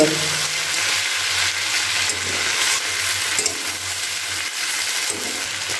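Chopped roti being stirred into egg chowmein in a hot pan, with steady frying sizzle and repeated scraping of the spatula throughout, close and alone.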